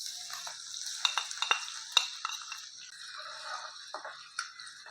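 Cumin, coriander and green chilies frying in hot mustard oil in a wok, a bright hissing sizzle with scattered pops and clinks of stirring, close and fairly quiet.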